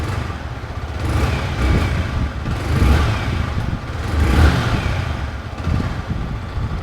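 A motorcycle engine revs repeatedly, throttle rising and falling in several surges over a steady rumble, loud and close.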